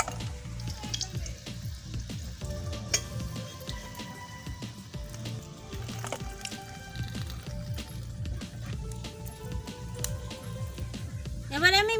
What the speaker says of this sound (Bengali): আমি আরেকটু ভেজে নেব।